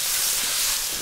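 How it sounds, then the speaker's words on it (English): Daikon, carrots and mushroom stems stir-fried in a pan for a vegetarian hot pot, giving a short burst of loud, steady sizzling hiss. "We'll stir fry with the daikon for about a minute"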